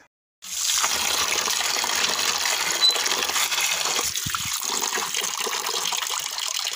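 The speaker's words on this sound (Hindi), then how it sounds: "चावल मैंने साफ कर लिए हैं, अब मैंने पानी में भिगो के रखती हूँ।" Water pours steadily from a tap onto broken kheer rice in a home kitchen, a continuous close gushing splash that starts abruptly and carries on without pause, with no talking.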